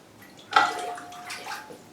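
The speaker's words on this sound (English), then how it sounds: "So we pour the water through" Water poured through a damp potted Cymbidium orchid, a sudden splashing gush that starts midway and runs steadily to the end, close and moderately loud.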